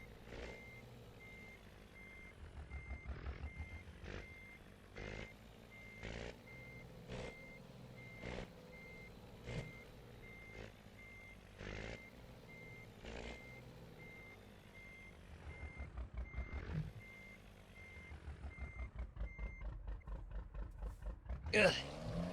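Truck hauling a 50-foot trailer reversing in a driving video game, with a steady backup beeper repeating at a regular pulse over a low engine rumble throughout.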